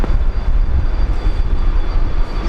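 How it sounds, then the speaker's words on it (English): Steady, loud engine roar from a Fokker aircraft at Brisbane International Airport in heavy rain, a continuous broadband rumble with no breaks. "Where's that Fokker noise coming from?"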